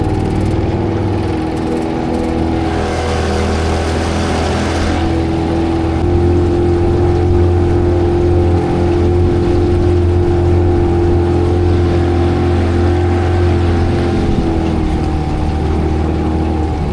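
A two-stroke outboard engine on a fishing boat drones steadily at close range, a constant loud hum with a slight shift in pitch partway through.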